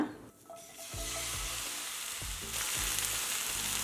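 Cauliflower florets, soaked in baking soda water and dried, fry in a pan on high flame for hotel-style gobi curry; a sharp sizzle jumps up and stays loud and steady, with low tonal music underneath.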